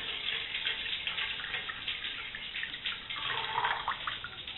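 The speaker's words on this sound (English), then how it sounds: "Going to go ahead and throw another 2 cups of water in here." Water pours steadily into a container beside an alcohol-fuelled mini stove, a continuous moderately loud splashing flow that swells slightly toward the end, with no talk.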